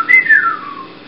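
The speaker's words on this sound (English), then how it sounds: "So, there's something whistling." A single short whistle, rising briefly then gliding downward in pitch, clear and close.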